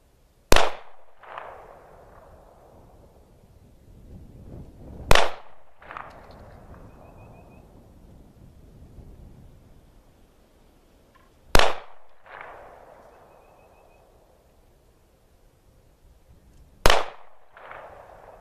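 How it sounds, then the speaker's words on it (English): Four sharp, loud gunshots spaced several seconds apart during aimed target practice at an outdoor range, each a crisp crack followed by a short decaying echo, with no talk. "let's try some aim shots on the right target"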